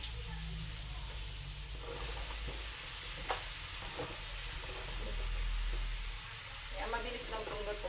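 Bottle gourd (upo) cooking in a hot pan with a steady close sizzle, soft scrapes and knocks of stirring breaking through it at intervals.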